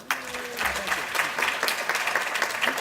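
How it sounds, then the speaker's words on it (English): An audience claps at a student services training session, steady, moderately loud applause from a small crowd in a room, with a voice briefly audible underneath. "So put your hands together, please, for Dr. Herbst."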